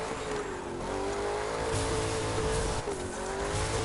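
Ford Mustang drifting in the racing game The Crew 2, a steady engine drone with a sustained tire squeal running throughout at close, even loudness.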